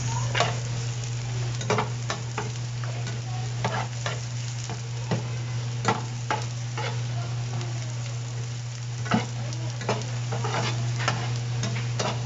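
Carrots sizzle and crackle in a hot frying pan for a seaweed roll filling, stirred with repeated sharp scraping clicks over a steady frying hiss and a low constant hum, close and alone without talk.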